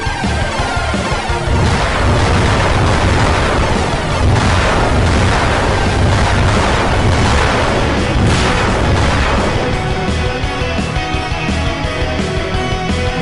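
A Chaotic Star Barrage attack in a Roblox game sets off a constant, dense wall of loud booming explosions. The blasts overlap with no break for the whole stretch, and nobody speaks.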